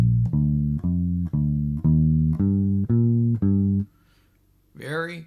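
Electric guitar plays the opening two measures of a traditional blues, a straight walking 1-3-5-3 bass-line figure in repeated even plucked notes, fairly close and clear, ending in a short pause before a brief voice.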